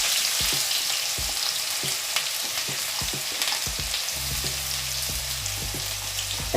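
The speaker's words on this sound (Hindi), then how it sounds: "अब प्याज डालने के बाद जीरा बिल्कुल भी नहीं जलेगा, जैसा था वैसा ही रहेगा" Sliced onion frying in hot oil with cumin seeds for a methi chole curry, a steady close sizzle with scattered crackles and pops, stirring clatter partway through and a low background hum, no voices.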